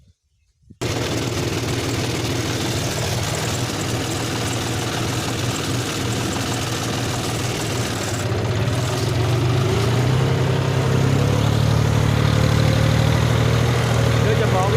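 A John Deere D-series tractor engine runs in gear B1, a loud, steady, close diesel drone that starts abruptly after a moment of silence, then deepens and grows slightly heavier in its second half.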